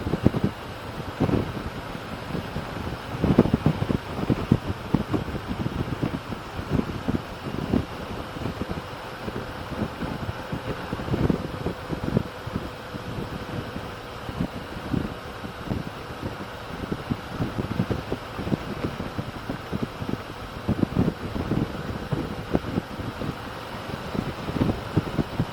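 Steady roaring wind buffets the microphone with irregular gusty thumps while riding a Harley-Davidson Street Glide with visor up, alongside a low engine drone throughout.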